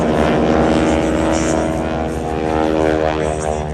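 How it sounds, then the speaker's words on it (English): Loud, continuous rasping drone of a propeller aircraft at an air show passing close by, the rasp coming from the propeller, steady and harsh with no talk over it. "the rasping noise that you hear, that's coming from the propeller"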